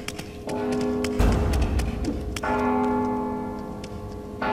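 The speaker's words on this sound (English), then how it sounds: "Don't you hear the bell?" An alarm bell rings in the stealth video game Mark of the Ninja as repeated sharp metallic clangs over a steady tonal hum, with bursts of noise between strikes and no speech.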